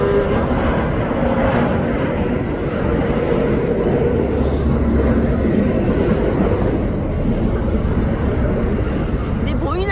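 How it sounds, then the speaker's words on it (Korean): An airplane passes overhead near a waterside spot where people watch mullet fishing, a steady loud broadband roar filling the whole stretch, with people talking underneath it. "아, 비행기 또 가네."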